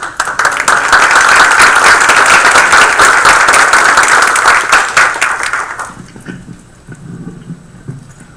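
A council meeting crowd gives a loud, sustained round of applause that holds steady for several seconds, then fades out, leaving quiet room noise and faint murmuring.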